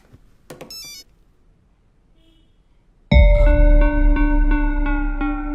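A brief chirp breaks the quiet, then after a pause a loud electronic ringtone starts and keeps ringing in a repeating melodic pattern.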